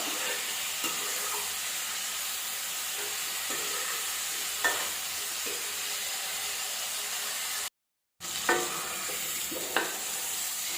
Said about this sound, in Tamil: கத்திரிக்காய் அந்த எண்ணெயிலே நல்லா வதங்கட்டும்.